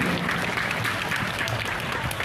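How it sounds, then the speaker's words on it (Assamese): Audience applause welcoming a Bihu artist at a Bihu function, steady dense clapping from a crowd that fills the whole moment without pause, close and fairly loud. "উপস্থিত সকলো বিহুপ্ৰেমী ৰাইজক জোৰে এটা হাত চাপৰিৰে তেখেতক স্বাগতম জনাবলৈ অনুৰোধ জনাইছোঁ"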